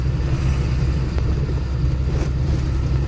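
Vehicles rolling past in a slow line on a single-lane highway at dawn, a continuous low engine and tyre rumble close by, steady and unbroken with no clear gaps between vehicles.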